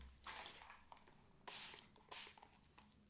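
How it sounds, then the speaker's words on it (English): A handheld spray bottle mists water onto an acrylic-painted canvas, giving two short hissing bursts, close and fairly quiet, amid faint brushing and handling sounds. "I'm going to spray the canvas."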